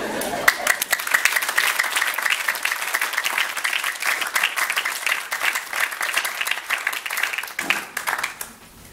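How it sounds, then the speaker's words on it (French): An audience at a Rotary youth exchange orientation meeting bursts into sustained applause, a dense, lively wash of many hands clapping that holds for several seconds before tapering off, with some talking underneath. "Bon, merci de vos applaudissements"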